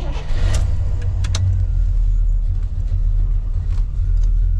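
A 1970 Chevy Chevelle SS 454 with a five-speed manual drives along, its engine a loud, close, deep rumble with a few light clicks and taps over it and no speech.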